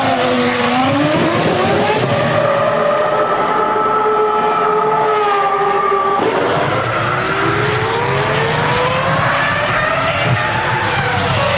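Formula 1 cars at the 2003 European Grand Prix at the Nürburgring, engines screaming in high rising and falling whines as they pass, loud and continuous with shifting pitch and no talk.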